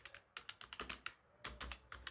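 Python code being typed on a computer keyboard: a quick, close series of crisp key clicks in two short bursts, fairly quiet, with no talking.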